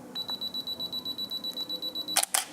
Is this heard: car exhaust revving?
no